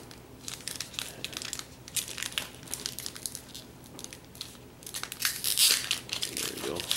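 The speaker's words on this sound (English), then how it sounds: "Open it without damaging the card" A foil Honors football trading card pack is torn open by hand, with crinkling, crumpling foil in irregular bursts, close and fairly quiet, growing louder near the end.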